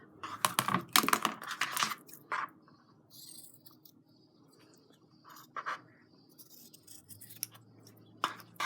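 Scissors snip through fabric for a patchwork tote bag, a run of close, crisp cuts at the start, then a few isolated snips later on against a quiet room.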